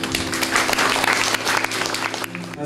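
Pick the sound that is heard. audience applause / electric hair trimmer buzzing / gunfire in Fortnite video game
audience applause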